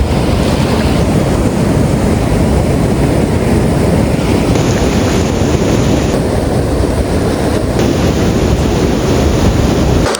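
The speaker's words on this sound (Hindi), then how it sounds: "पानी का फोर्स बहुत ज़्यादा है और ये पानी" Rushing river water at the Spiti and Sutlej confluence roars in a dense, loud, unbroken wash, close by, with wind buffeting the microphone.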